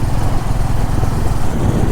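A Honda CB 350 motorcycle engine runs smoothly while cruising in fourth gear, a loud, steady, close drone with a continuous rumbling texture and no pauses.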